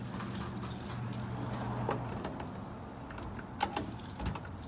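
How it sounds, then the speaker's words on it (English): Keys jangle near a storage unit, a bunch rattling and clinking in short bursts as a key is tried in the lock, over a low idling vehicle hum. "Sometimes you get lucky and the first key's the right one."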